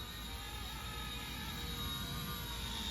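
A steady, high-pitched whine of a micro RC Bell 206 model helicopter's motor and rotors, continuous and fairly even, with no voices.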